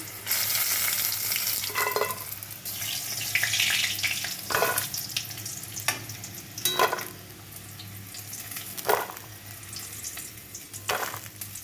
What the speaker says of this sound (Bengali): আলুগুলো লাল লাল করে ভেজে নিয়েছি